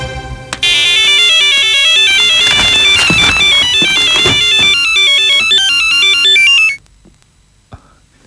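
A loud electronic ringtone with a repeating melodic pattern, close and continuous for about six seconds before it cuts off abruptly into near silence with one faint click.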